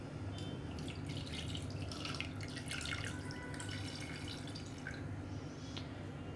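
Water running into a pot holding about 150 grams of chicken pieces as it is readied for boiling, a steady close splashing and dripping trickle that lasts throughout with no voices.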